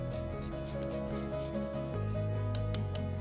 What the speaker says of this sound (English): Let's finish, just for fun, with a little more dark chocolate. Just grate it on top.